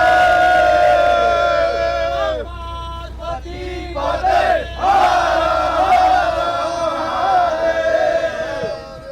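A gathered crowd chants a devotional rallying cry in unison with drawn-out, tonal voices rising and falling in waves, loud and close, with some cheering mixed in.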